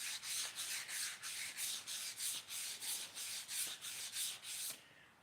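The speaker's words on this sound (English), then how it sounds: "I'm polishing my goblet." Goblet being polished by hand in a workshop: a steady, rhythmic rubbing, about twelve even back-and-forth strokes, close and alone, stopping at the end.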